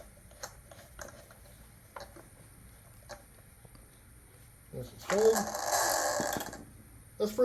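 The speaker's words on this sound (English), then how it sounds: "And then you're going to screw this on." Plastic clicks and ratcheting as a DEWALT string trimmer head is screwed counterclockwise onto its reverse-threaded shaft, with a few faint ticks followed by a louder, longer burst of grinding ratchet noise near the end.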